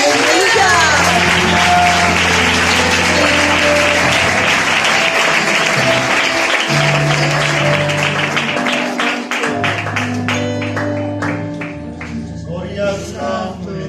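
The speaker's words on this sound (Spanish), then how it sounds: "¿Pueden dar un aplauso al Señor?" A church congregation breaks into sustained, loud applause during a Spanish-language sermon, dense clapping filling the space with organ-like tones beneath, tapering slightly toward the end.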